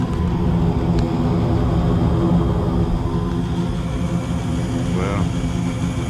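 A gas furnace burner lights and fires steadily after the valve clicks in, a loud continuous roar on a unit with a bad heat exchanger and a bypassed flame rollout switch.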